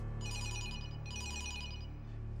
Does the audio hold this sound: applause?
no